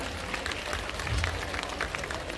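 An audience at a Women's Day ceremony applauds with a dense, even clatter of many hands, sustained at moderate loudness and heard slightly distant through a hall's ambience.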